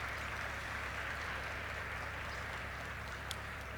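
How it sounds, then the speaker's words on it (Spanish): Applause for a teacher at a physical education event, a distant, faint wash of clapping from an audience that holds steady, with a low hum underneath. "el aplauso más fuerte al maestro José Luis Cervantes"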